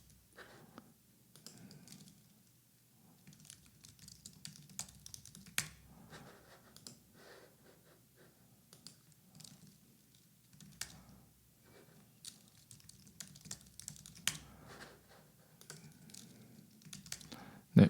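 Text is typed on a computer keyboard in irregular bursts of light clicking keystrokes, close and clear, with brief pauses between runs and no speech.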